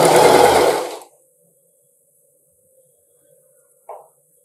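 A sewing machine stitches along the edge of a dress, a loud, steady whirring run for about a second that then stops, followed by near silence and one short mechanical clunk.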